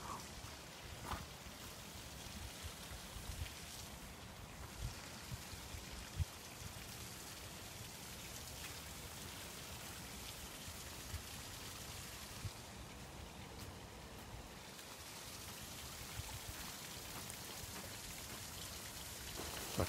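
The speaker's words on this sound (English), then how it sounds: "There's a waterfall up here," A small waterfall near Rossie folly in Scotland gives a constant faint hiss of falling water, steady and soft throughout with a few light knocks.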